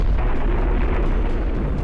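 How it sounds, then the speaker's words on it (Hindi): A deep, continuous rumbling roar from the La Palma volcano eruption fills the whole clip, loud and sustained like a massive distant eruption, with no clear individual blasts. "ला पाल्मा के ज्वालामुखी में विस्फोट।"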